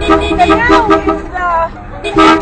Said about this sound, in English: That's why you hear lots of honking.